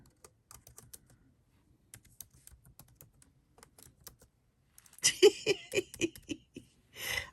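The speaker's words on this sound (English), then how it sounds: "I cannot type today." Fingers typing on a computer keyboard, starting as sparse, light key taps and then breaking into a louder, denser burst of rapid clacking near the end, close to the microphone.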